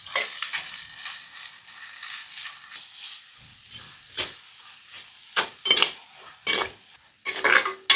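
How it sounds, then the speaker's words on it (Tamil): Sliced onions and tomatoes with turmeric and salt fry in a pan for a village-style fish curry, a soft sizzle broken by repeated scraping stirs and utensil knocks that grow sharper toward the end. "வெங்காயம் நல்லா விதங்கிச்சு. தக்காளி போட்டுடலாம்."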